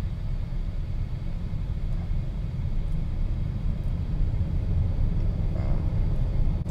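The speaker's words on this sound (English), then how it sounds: "And for a van, this thing can definitely hustle." A 2020 Honda Odyssey Elite minivan with a 10-speed automatic is driven in light traffic, giving a steady low road and engine rumble that swells slightly toward the end, with no talking.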